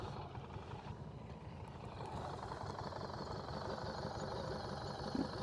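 A Harley-Davidson motorcycle engine runs at slow speed during a new rider's low-speed practice, a steady low rumble that holds throughout at moderate distance.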